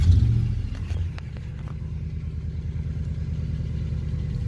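A car engine with a 545RFE transmission is started at the beginning, with a brief loud crank and catch. It then settles into a steady, low mid-pitched idle rumble that continues alone nearby.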